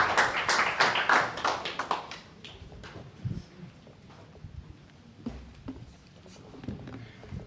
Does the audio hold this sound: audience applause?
yes